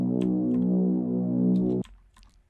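Reese bass synth, the main element, with a pitch envelope on the first note: a loud, buzzy sustained tone that cuts off abruptly, followed by brief quiet clicks and a new hit at the end.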